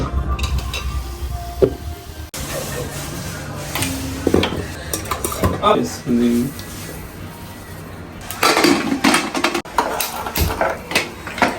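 Kanda gadda yam being washed in a home kitchen, with water splashing, wet scrubbing and clattering of pots and vessels close by, while people talk over the intermittent clanks.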